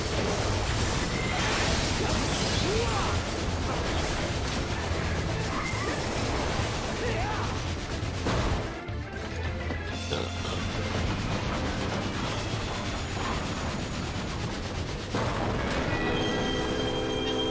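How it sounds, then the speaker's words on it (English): A train crashing and derailing during a Final Fantasy XIV boss fight: a sustained roar of rumbling, grinding wreckage and impacts, loud throughout, with a brief dip before the din resumes. "And the train has been derailed."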